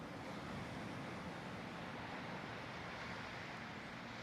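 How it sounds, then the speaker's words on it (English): Ocean surf rolls in as a dense, continuous wash of broadband noise, steady and fairly faint, with a windy, rumbling undertone and no voices. "Hear the beautiful waves coming in"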